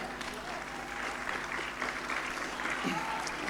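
Studio audience applause during a talk show interview, a dense, continuous clapping wash of many hands at moderate level, with a faint voice surfacing near the end.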